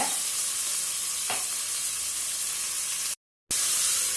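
Tomatoes and salt sauté in a hot pan with a continuous close sizzle, one sharp stirring scrape partway through, and a brief gap of silence near the end.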